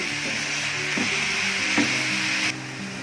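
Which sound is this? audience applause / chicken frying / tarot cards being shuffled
chicken frying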